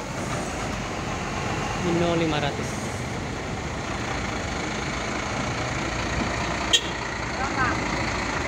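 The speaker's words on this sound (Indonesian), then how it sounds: "Lanjut ada trailer kontainer." A container trailer truck queues to board a ferry at a port pier, giving a steady, close diesel rumble with a broad roar of harbour traffic and one short sharp burst near the end.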